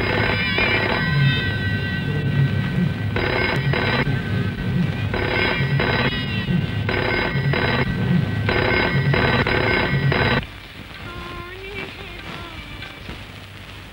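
Telephone ringing in a 1975 Hindi film scene after a number is dialed: repeated double bursts of a bright bell ring, loud and close, stopping abruptly near the end, followed by quieter room tone and a faint rising tone.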